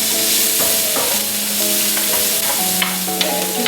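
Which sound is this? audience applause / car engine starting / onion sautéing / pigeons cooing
onion sautéing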